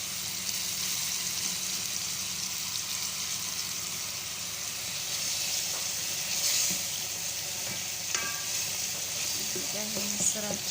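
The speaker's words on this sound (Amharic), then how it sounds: "እየተቆላላች ነው።" Food roasting in a pan with garlic added for an Ethiopian dish: a continuous frying sizzle with occasional stirring scrapes and clinks, close and fairly loud, with no talking.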